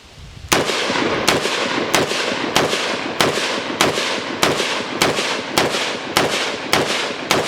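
A CETME CA-3 .308 rifle is fired about a dozen times in a steady, evenly spaced rhythm, each shot a loud, sharp crack with a short decaying echo, outdoors and close.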